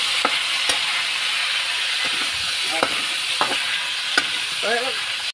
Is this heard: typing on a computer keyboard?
no